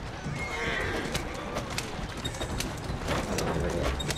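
Horse hooves clatter steadily with a whinny over a dense, noisy background, continuous throughout without talking, from a galloping horse in the video game Assassin's Creed Syndicate.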